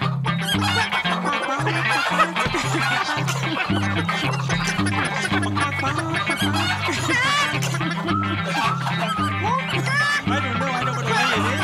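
A flock of hens clucks loudly and continuously, close up, with overlapping cackles in a busy, dense chorus.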